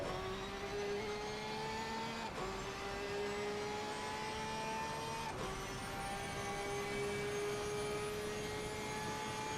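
A Porsche race car in Assetto Corsa Competizione, endurance racing at Monza, drones with a steady high-pitched engine whine that shifts up through gears twice, loud and continuous with no talk over it.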